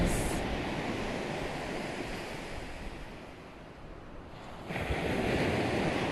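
Continuous rushing ocean waves, dipping slightly midway before a fresh surge of surf swells back in, no talking.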